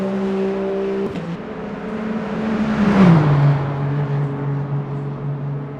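Number 8 Toyota race car in Le Mans Ultimate exiting the first chicane onto the Mulsanne Straight: a close engine whine that drops as it brakes, then rises steadily again as it accelerates away.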